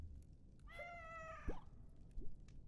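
A glass cat creature in the video game Ikenfell gives a single clear, drawn-out meow, followed by a brief softer chirp, quiet against faint background.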